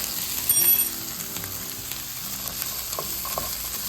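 Chickpeas with a pinch of baking soda sizzle in a pan for Indian butter chickpeas, a steady close frying hiss with a brief louder burst early on and a few light stirring taps later.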